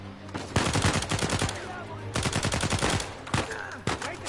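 Rapid bursts of gunfire from the video game Uncharted 4, loud and close, coming in several clusters of quick repeated shots with short gaps between them.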